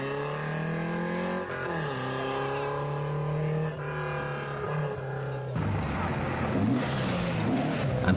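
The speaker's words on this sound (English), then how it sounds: "John Scully in the 2-litre Opel Manta." A 2-litre Opel Manta rally car at the 1982 Kerry Single Stages Rally roars past from nearby, its engine note sustained and loud, then dropping in pitch as it passes and shifting to a rougher, gravelly drone.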